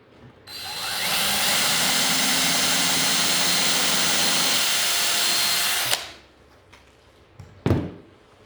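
A power drill fitted with a bigger bit drills steadily for about five seconds, a loud sustained high whine close by, then stops, followed by a couple of faint knocks and a brief clunk.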